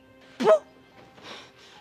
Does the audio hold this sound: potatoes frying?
no